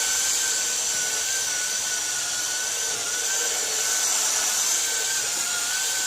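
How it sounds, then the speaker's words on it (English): Steady, continuous abrasive whine of a power sander working a cloudy car headlight lens, with a high hissing tone holding level throughout and no pauses or voices. "Help me sand."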